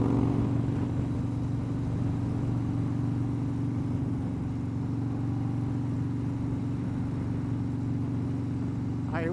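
Harley-Davidson motorcycle riding through big-city traffic in Madison, Alabama, a steady close engine drone with a constant low rumble throughout, no speech.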